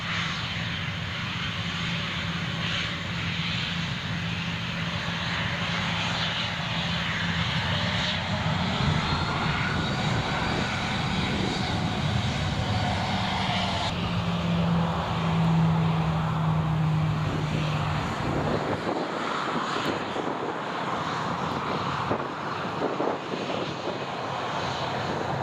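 Aircraft landing on runway 07 at Newcastle International Airport, a sustained jet engine roar that swells and shifts in pitch before dropping away toward the end.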